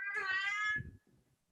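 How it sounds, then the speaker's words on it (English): A pet cat gives one loud, drawn-out meow close by indoors, followed by a few soft low thumps. "Who's cat? That's my cat. She's very rude."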